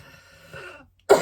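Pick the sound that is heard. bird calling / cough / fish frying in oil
cough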